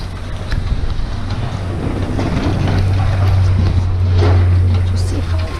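A snowstorm with blizzard conditions in December brings strong, gusting wind that roars and buffets the microphone continuously and loudly, while a person talks over the blowing.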